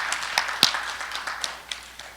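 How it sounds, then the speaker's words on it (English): Brief, scattered applause from a small group, with individual claps standing out and gradually tapering off. "Let's give a round of applause."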